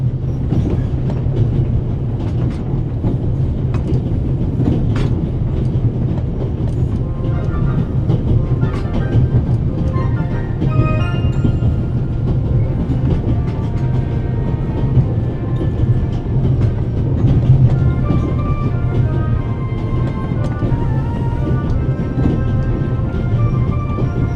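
A train on the Orient Express in the video game The Raven Remastered rumbles steadily along the rails with a low continuous roar, rhythmic clicking and occasional metallic squeaks, close and loud the whole time.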